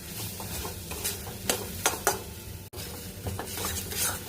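Soybean mince stirred in a frying pan with a little water and ground spices, a spatula scraping and clattering against the pan in brisk repeated strokes over a steady sizzle, close and clear.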